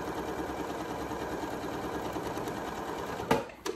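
A Janome Memory Craft MC9450 sewing machine stitching a fabric face mask, giving a fast, even mechanical whir at moderate volume, broken near the end by a couple of sharp clicks.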